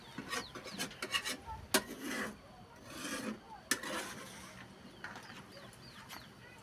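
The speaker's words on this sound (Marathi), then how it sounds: "तर थोडा हलवून घेऊ" A spoon stirs shev bhaji simmering in a pot, giving soft scraping and rubbing strokes at an irregular pace, close and fairly quiet, with no voices.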